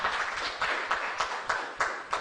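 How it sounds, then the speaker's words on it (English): An audience at a national dialogue event claps in a loose, even rhythm of distinct hand-clap bursts, moderately near and fairly soft, with no speech over it. "Can we clap for ourselves?"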